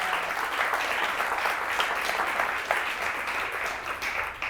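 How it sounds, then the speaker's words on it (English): Applause from an audience at a live evening event in a venue space, a continuous, even wash of many hands clapping throughout at moderate loudness. "how about a big round of applause for Hennepin Made"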